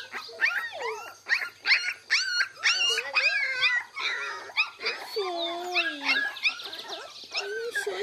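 Orphaned puppies on a rural farm whimper, yip and give high wavering howls in many overlapping cries, close and fairly loud, with no talking.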